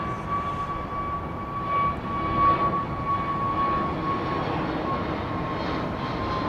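An Alaska Airlines jet airliner departs Heathrow with a loud continuous engine roar and a steady high whine, swelling slightly at its peak and heard alone without talk.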